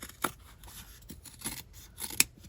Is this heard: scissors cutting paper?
yes